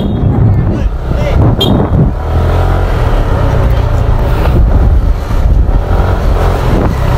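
Yamaha Aerox 155 scooter on a test ride, its engine running steadily under heavy wind buffeting on the microphone, with the rider talking throughout.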